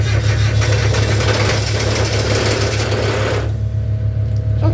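A cold Onan engine runs after starting, giving a loud, steady, low rumbling drone heard close. The upper hiss drops away in the last second while the deep hum continues.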